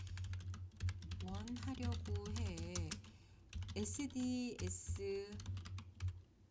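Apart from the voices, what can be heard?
typing on a computer keyboard into ChatGPT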